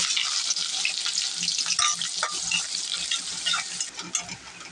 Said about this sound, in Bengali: তেল গরম হয়েছে, এখন পেঁয়াজটা ছেড়ে দিব।